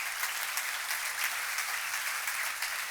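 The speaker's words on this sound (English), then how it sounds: "Campbell a big round of applause" Steady applause from a conference plenary audience at a global summit, welcoming a guest doctor to the stage; dense, even clapping that fills the whole stretch at moderate level with no voices on top.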